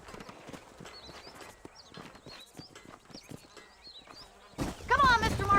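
Horse hooves clip-clopping at a steady walking rhythm in Red Dead Redemption, with buzzing insects in the background, fairly close, and then a louder burst of sound near the end.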